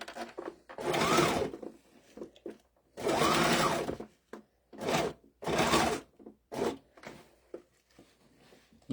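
A sewing machine stitches a rifle bag in a sewing shop, running in several loud close bursts of rapid whirring with short pauses between them.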